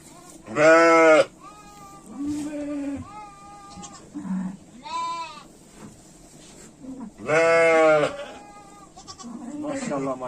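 A ewe bleats loudly, with her newborn lamb's thinner bleats mixed in, alongside scattered quiet human voices nearby.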